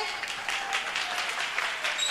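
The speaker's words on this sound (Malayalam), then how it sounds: "എന്നാ നല്ലൊരു കൈയടി കൊടുത്തേ" An audience at a church New Year program claps for a children's performance, a steady patter of many hands at moderate loudness.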